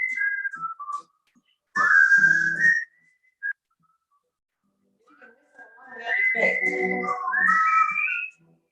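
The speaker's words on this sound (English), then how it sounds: "Now he's gonna whistle." A person whistles a short melodic tune in bursts with pauses between phrases, close and clear, no talking.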